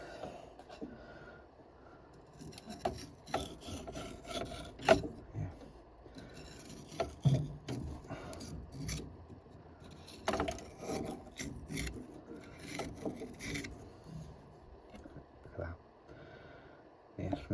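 A blocked boiler fitting is scraped out by hand, giving faint, irregular raspy scratching and small metallic clicks close by.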